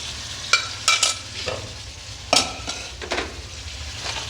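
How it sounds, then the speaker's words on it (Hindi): Chicken pieces hit hot oil in a kadhai where onions were browned, giving a loud, close sizzle with sharp spatula scrapes and clatters over the continuous frying. "अब मैं ये जो चिकन हमारी है ये मैं इस तरीके से कढ़ाई में डाल दूँ।"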